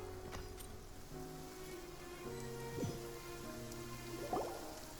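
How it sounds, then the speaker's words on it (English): Soft, steady rain patters in Genshin Impact, a faint, even wash of falling drops with a couple of slightly louder splashes and low background music tones underneath. "It's been raining non-stop for a few days now."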